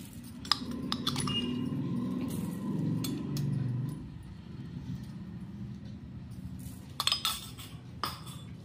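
A spoon clinks against a bowl while guava chaat is stirred with black salt and sugar, giving scattered light taps and a brief cluster of clinks near the end, with a voice murmuring low underneath at the start.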